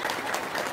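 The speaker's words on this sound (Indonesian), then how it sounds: "Tepuk tangan dong." A live audience at a comedy-style talk show bursts into brief applause, a dense, even patter of many hands clapping at moderate volume.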